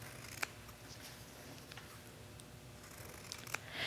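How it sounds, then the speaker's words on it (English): Scissors cut fabric around a paper-pieced block, leaving a generous seam allowance, with a few quiet snips and soft rustling handling sounds, close and without talk. "Just cut your fabric all the way around."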